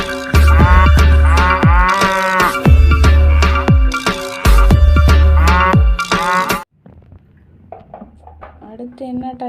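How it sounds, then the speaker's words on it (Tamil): A cow moos several times in long, loud, strongly harmonic calls with pauses between them, likely from a toy or sound effect. After the calls stop, a quiet voice speaks briefly. "மாடு."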